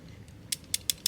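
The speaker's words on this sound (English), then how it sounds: "You got a ratcheted hip joint, pretty tight." Crisp ratcheting clicks from the hip joint of a Flame Toys Kuro Kara Kuri Transformers Starscream figure as it is articulated, four quick close clicks with a faint creak between them.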